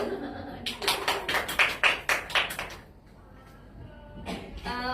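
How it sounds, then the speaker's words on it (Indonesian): Classroom applause from students, a short burst of about a dozen sharp claps with a brief pause, then a few more claps at the end, close by. "tepuk tangan dulu"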